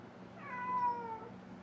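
An upset house cat gives one drawn-out, wavering meow, faint and fairly close, in a quiet room with no talk.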